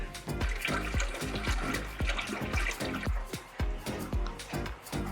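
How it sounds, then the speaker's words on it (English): A pump pushes water up through pipes to fill the tank of a plant holding system, giving a continuous gurgling, splashing rush with irregular drips and glugs, close and steady with no talk. "We got water coming. You can hear it coming up the pipes."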